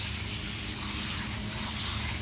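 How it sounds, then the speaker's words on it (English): A steady gush of water rinses bleach-soaked seashells outdoors in a yard, spraying continuously at a moderate level with no voices. "I'm just gonna rinse them off in the yard."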